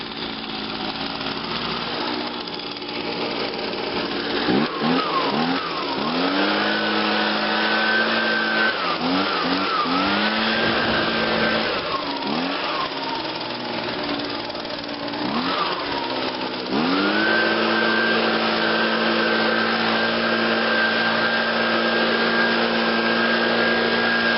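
A small engine leaf blower runs steadily for a long stretch, holding a loud droning whine whose pitch dips and revs several times before settling into a higher, even tone.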